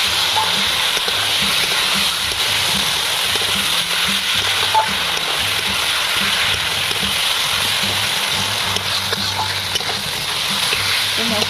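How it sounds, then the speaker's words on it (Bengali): Fried potatoes being stirred and cooked down with spices in a pan for an egg omelette curry, a steady close sizzle with scraping stir sounds running throughout. "মশলার সাথে ভেজে রাখা আলুটা ভালো করে কষিয়ে নিয়েছি।"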